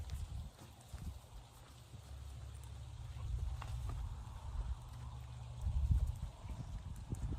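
Steady hoof clops of a horse walking on soft ground, muffled and fairly close, under a constant outdoor rush of wind-like noise.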